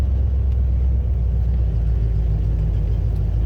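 An old Ford F-100 pickup with a T5 five-speed manual cruising down the road: a steady, loud low engine and road rumble heard from inside the cab, even and unbroken throughout, no voices.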